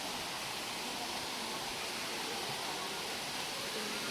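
Gabur Gabur waterfall in the Sierra Madre of Cagayan Valley roars as a dense, steady rush of falling water, loud and close, with no break or change.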